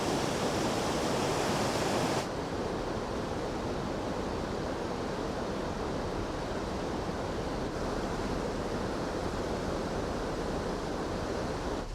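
Fast-flowing creek water after landslides rushes in a constant broadband roar, steady and fairly loud throughout, with no voices.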